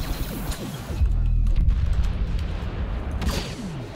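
Blaster fire from a Star Wars Battlefront battle, a rapid string of booming, crackling shots over a rumbling, busy battlefield backdrop, close and loud.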